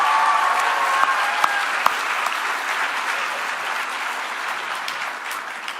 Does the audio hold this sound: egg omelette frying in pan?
no